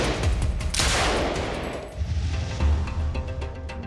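A German WWII MG-34 air-cooled machine gun fires a rapid sustained burst, loud and dense, trailing into echoing reports and scattered further gunfire.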